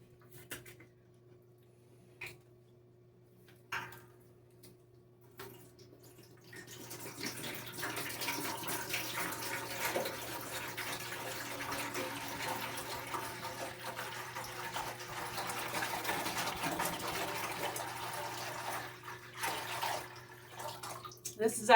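Distilled water pours into a hydroponic system, starting with a few faint drips and then swelling into a steady, close splashing stream that lasts most of the way.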